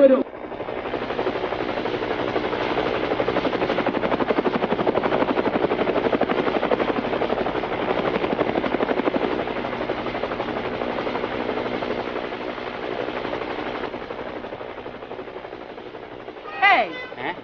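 Helicopter in a Bangla Eid comedy drama, its rotor thudding loud and steady for over a dozen seconds before cutting off, with a brief voice at the end.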